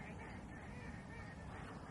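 A live decoy duck, held up by the head by a hunter beside a hunting hut, quacks in a steady dense stream at close range, fairly faint under low rumbling background noise.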